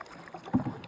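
A single canoe paddle stroke pulls through lake water in Downeast Maine, a soft splash and gurgle against light wind noise.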